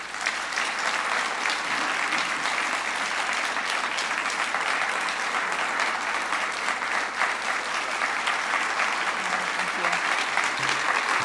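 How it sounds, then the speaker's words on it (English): A banquet audience applauds warmly, with dense, sustained clapping from a large crowd filling the room at an even, loud level for about eleven seconds. "So let's give a round of applause"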